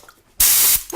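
A short, close burst of spray paint hissing from a can onto a bicycle part, lasting under half a second and starting abruptly after a quiet moment.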